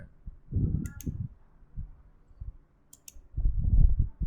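A few sharp computer mouse clicks, close and fairly quiet, come in two small pairs, with faint low thumps and rustles in between.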